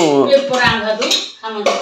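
Dishes, pots and utensils clatter while being washed at home, with scattered metallic clinks and knocks up close under a person talking almost continuously.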